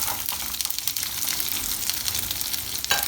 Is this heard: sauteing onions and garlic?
yes